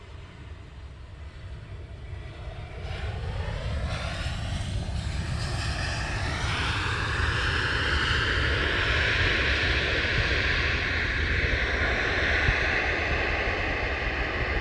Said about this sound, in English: Spoilers up, reverse thrusters on.